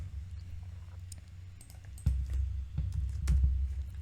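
Computer keyboard keys clatter in irregular quick bursts as a GDB command is typed, fairly quiet over a low steady hum, with a few sharper clicks toward the end.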